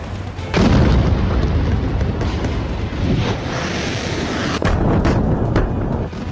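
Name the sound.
explosions from Israeli strikes on Hezbollah in Lebanon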